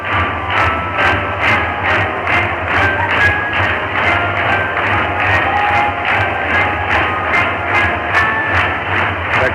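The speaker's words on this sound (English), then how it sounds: "The crowd making a racket." A crowd of Twins fans at a 1981 Minnesota baseball game roars steadily through a pinch-hitting moment, with rhythmic pounding or clapping bursts about twice a second over a low broadcast hum, with no talk.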